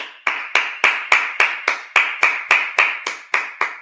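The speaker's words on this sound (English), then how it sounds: "Clap it up." A group claps in a steady, even rhythm, about a dozen sharp claps spaced evenly at close range at a Sabbath service, with no talking over them.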